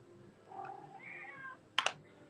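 A house cat gives a soft, drawn-out meow followed by a sharp double chirp near the end, faint and close against a quiet indoor room.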